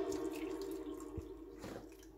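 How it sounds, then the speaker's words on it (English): Hot water poured into an AeroPress coffee maker, a steady close trickling stream with a brief splashy surge partway through, heard alone without voices. "Now you have to flip it around and then pour some water. It has to be hot water,"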